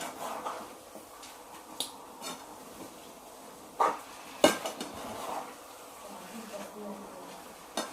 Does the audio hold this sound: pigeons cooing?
no